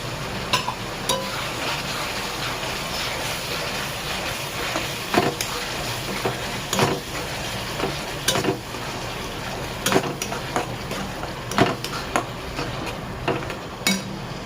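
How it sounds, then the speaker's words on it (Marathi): Tomato paste hitting fried onions in hot oil, a continuous close sizzle with scattered scraping and stirring knocks from the pan, no voices. "आपण टाकूया टमाट्याची पेस्ट"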